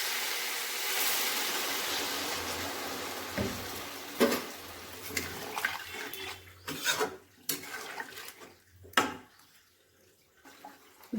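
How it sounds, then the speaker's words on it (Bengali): Water splashes and pours into a pan of shukto, a Bengali vegetable curry with fried banana and salt already added, over a sizzling hiss that fades into a few sharp clinks and splashes. "এবারে দিয়ে দিচ্ছি জল।"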